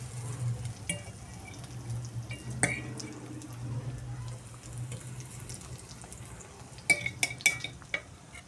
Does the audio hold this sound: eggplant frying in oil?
yes